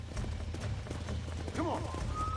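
Horses galloping in the video game Red Dead Redemption, steady clip-clop of hooves beneath a low rumble, with a brief whinny and a voice speaking over it.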